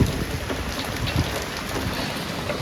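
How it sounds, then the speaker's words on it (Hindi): Heavy rain with a strong windstorm in the early morning, a loud continuous dense roar of downpour and gusts filling the whole stretch, with no voices. "सुबह सुबह का मौसम देख लो, बहुत तगड़ी आंधी के साथ, बहुत तगड़ी बारिश के साथ"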